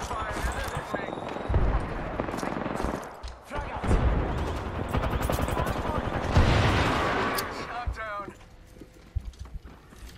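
Gunfire in the Apex Legends video game, bursts of rapid shots and impacts mixed with game effects, running under near-continuous excited talk from a player.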